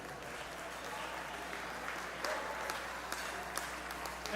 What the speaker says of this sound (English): Let's give a big round of applause to Father of the Bride, Mr. Roger Davison.